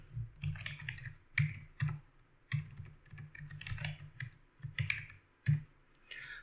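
Computer keyboard typing, entering a Java version command in a Windows command prompt: quick, close bursts of crisp keystroke clicks run throughout, with a few short pauses between runs.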